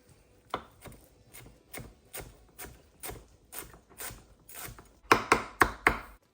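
A knife chopping fresh coriander leaves on a board: about a dozen distinct, evenly spaced knocks, close and clear, quicker and louder near the end, with no talk.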